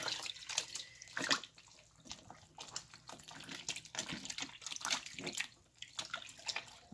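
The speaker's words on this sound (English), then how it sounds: "you're washing all the starch out of this" Regular flour dough kneaded and washed in water to rinse out starch for seitan, close wet squishing and sloshing with splashes and drips, irregular and continuous, no talk.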